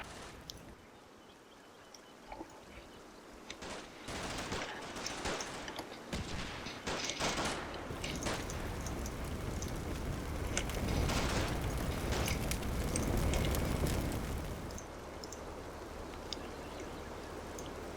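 Artillery barrage in the Combat Mission Black Sea war game: a scattered run of distant thumps and crackling impacts that builds into a sustained rumbling roar, moderately quiet overall.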